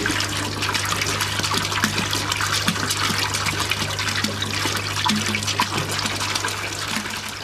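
Water pumped through the transfer pipe of a small wastewater treatment plant for eight residents, a steady rushing, gurgling flow over a constant low mechanical hum, alone and continuous.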